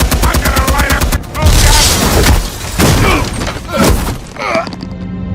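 Gunfire and heavy impacts in Batman: The Telltale Series video game, loud bursts and booms in a rapid, chaotic volley, with voices among them.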